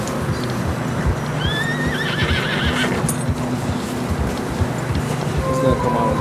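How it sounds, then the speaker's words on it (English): In the video game Red Dead Redemption 2, a horse gives a loud whinny while its hooves thud steadily over fresh snow, the footfalls continuing under the neigh. "Horses are getting tired."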